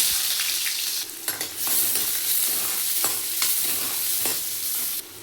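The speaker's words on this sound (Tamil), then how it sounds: "இப்போ எண்ணெய் காஞ்சிச்சு. ஆனியன் போட்டுக்கலாம்." Onions frying in hot oil in a pan for mutton gravy, a loud continuous sizzle with scattered spoon scrapes and clicks, ending a touch quieter.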